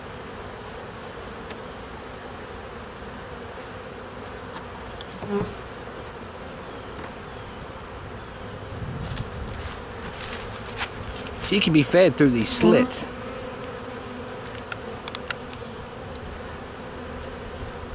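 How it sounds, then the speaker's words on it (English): Honeybee workers buzz steadily around a caged queen during a hive relocation, the drone swelling louder and closer in bursts near the end while a person talks quietly over it. "They're big enough for worker bees to get through, okay, but not for her."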